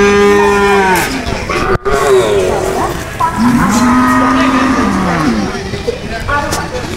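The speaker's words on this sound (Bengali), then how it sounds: "দেখতে পাচ্ছেন একটা গরু" A cow lows repeatedly at a cattle market in Bogura, Bangladesh, its long drawn-out moos rising and falling close by over a busy background of market chatter and distant engine noise.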